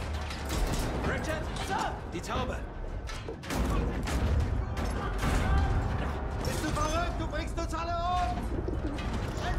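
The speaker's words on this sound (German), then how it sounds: "Die Taube!" Pigeon cooing in the Battlefield 1 campaign, a repeated soft coo heard amid a busy game soundscape of mechanical creaks, battle noise and shouted voices.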